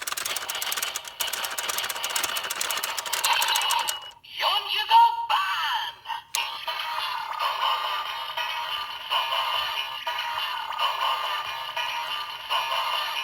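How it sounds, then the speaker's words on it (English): A DX Geartlinger toy plays its electronic transformation music after the crank is turned, a bright, steady synthesized tune broken by a brief mechanical clatter midway. "you're going to turn the crank, and then the transformation music will start"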